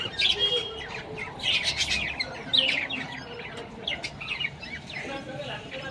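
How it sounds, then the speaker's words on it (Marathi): Many budgies chirp and twitter at an indoor bird market in Lakadganj, Nagpur, a busy, overlapping chorus of bright high calls with a low crowd murmur beneath. "या पक्ष्यांना बजीज म्हणतात आणि बाकीचे लोक मग लवबर्ड्स पण म्हणू शकतात यांना"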